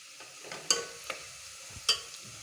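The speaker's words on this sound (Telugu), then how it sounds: "కాసేపు కొంచెం కలర్ చేంజ్ అయితే వేయించుకోవాలి" Sliced onions frying in a pan for gongura onion biryani, a soft steady sizzle with a few sharp spatula scrapes and stirs close by, no talking.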